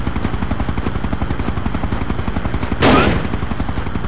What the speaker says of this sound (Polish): Strzelają do mnie z helikoptera.